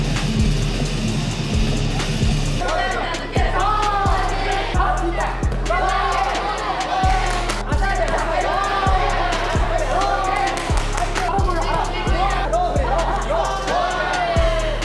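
A fight crowd at a women's combat sports event cheers and whoops steadily over a thumping arena music beat, a dense loud roar of many voices that never lets up.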